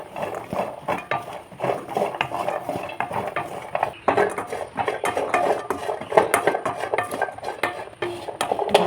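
Jackfruit seeds roast in a pan while a utensil stirs them continuously, giving close, busy scraping and rattling clatter with a faint sizzle underneath, no voices.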